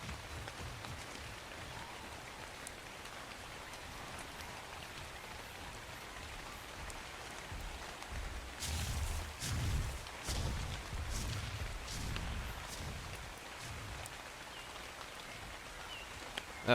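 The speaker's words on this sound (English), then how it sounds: "It's raining." Rain falling in a survival video game, a soft steady patter that swells louder in the middle with a few sharper splashes before easing back down.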